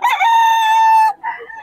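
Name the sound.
rooster crowing, Boston Gilmore gamefowl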